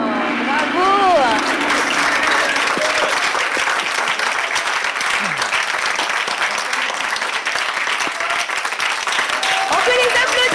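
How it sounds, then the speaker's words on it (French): Sustained applause from a live studio audience at a holiday radio broadcast, dense steady clapping filling the whole stretch with a few voices and cheers mixed in. "On peut les applaudir!"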